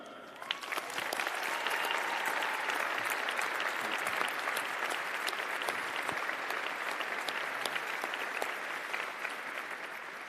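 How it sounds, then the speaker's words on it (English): Sustained applause from a large graduation ceremony audience honoring the honorary awardees, dense steady clapping that rises quickly and holds at full strength, with no talk over it. "please join me in giving a huge round of applause to our inspirational honorary awardees"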